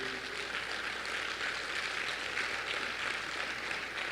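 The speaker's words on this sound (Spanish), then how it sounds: "un aplauso para ti y todos los servidores que vinieron a servir" An audience in a church service held in a theater claps together in a steady, dense wash of applause that holds at an even level throughout.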